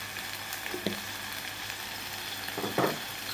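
Onion and tomato puree frying in a pan for a village-style mutton curry, a steady soft sizzle throughout with a couple of brief stirring scrapes, close and alone without talk.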